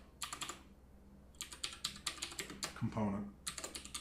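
Typing on a computer keyboard in bursts of quick, light clicks with short pauses between runs, close and fairly quiet, while someone speaks briefly once.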